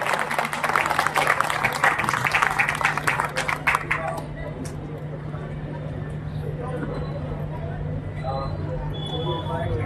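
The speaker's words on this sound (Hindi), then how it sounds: "जोरदार ताली।" Audience applause at a community organisation event, a dense burst of clapping for about four seconds that then dies away, leaving a low hum and faint room murmur.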